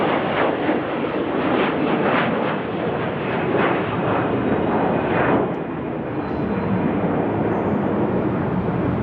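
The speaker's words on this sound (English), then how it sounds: "Thank you to this Delta plane taking off." A Delta passenger jet takes off at Salt Lake City, its engine roar loud and steady throughout as a dense broadband rumble with no voices over it.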